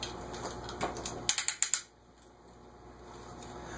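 An Evergo 5-speed ceiling fan control is switched, producing a quick run of five crisp mechanical clicks close by, then the room drops into quiet with a faint hum.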